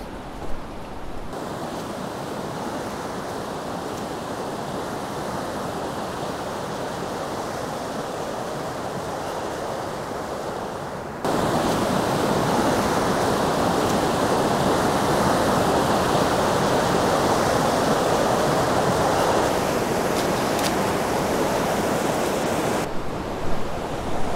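Aasleagh Falls, a waterfall, roars as a steady broadband rush of falling water heard close up, holding constant and growing noticeably louder partway through as the approach nears the cascade, with no voices.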